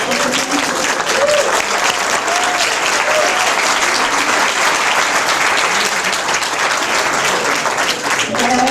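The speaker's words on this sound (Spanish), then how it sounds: "vamos a darle un fuerte aplauso a los expertos" Strong applause from an audience thanking a panel of experts at a talk, loud continuous clapping that fills the whole stretch, with a voice briefly audible underneath.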